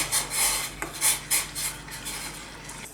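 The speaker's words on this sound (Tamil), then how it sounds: "இதை கரைச்சதை வந்து அப்படியே ஊற்றி கிளறிட்டே இருக்கணுங்க" A utensil scrapes around a pot in repeated rhythmic stirring strokes, close and moderately loud, with no voices, as a black urad dal porridge mix cooks.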